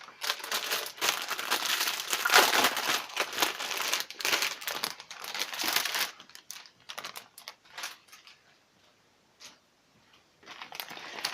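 A LEGO Legends of Chima magazine being opened, with close, loud crinkling and tearing of its plastic wrapping for several seconds, then thinning to sparse rustles and soft clicks.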